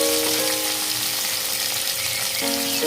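Curry leaves frying in hot oil with a loud, continuous sizzle and crackle, close up, joined by a brief steady whine at the start and again near the end.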